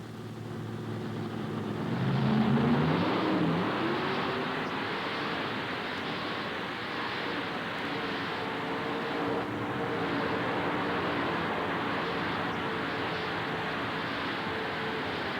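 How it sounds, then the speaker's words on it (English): Heavy roaring engines of multi-engine modified dragster pulling tractors swell to a loud peak early on, then hold a steady, thunderous drone with a rumbling, rough texture. "the nation's 7 best modified dragster tractors, and we're ready for the action to start"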